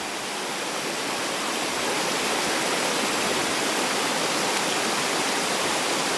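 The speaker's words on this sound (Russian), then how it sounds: "Только убаюкивающий шум падающей воды." Steady, close roar of a waterfall in a Crimean gorge on the eastern tributary of the Uzunzhar, water pouring continuously with broadband rushing that stays even throughout, no wind and no voices.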